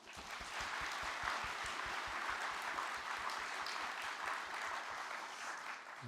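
Steady applause from a congregation at a Sunday church service fills the room, many hands clapping continuously at an even level throughout.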